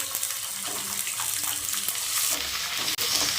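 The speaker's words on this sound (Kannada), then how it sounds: "ಈರುಳ್ಳಿ ಸ್ವಲ್ಪ ಸ್ವಲ್ಪ ಕಲರ್ ಬರಬೇಕು ಚೆನ್ನಾಗಿ ಫ್ರೈ ಆಗಿ" Onions frying in a pan for bisi bele bath, giving a continuous loud sizzle with a watery hiss, occasional stirring clicks and one brief dip near the end.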